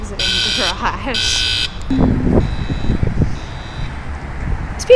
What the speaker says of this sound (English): That noise is cars exiting the garage.